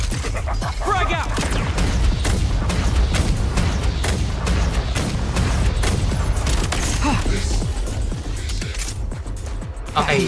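Grenade blasts and gunfire in a Genshin Impact style video game, a loud dense barrage of booms and shots running almost continuously, with game voices talking over it.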